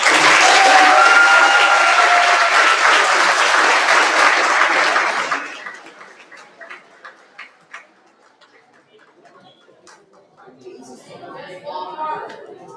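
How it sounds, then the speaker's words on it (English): Loud audience applause for sponsors at a student debate awards ceremony fills the first five seconds, then drops to scattered claps and quiet room noise, with a voice murmuring faintly near the end. "let's give our sponsors a final round of applause"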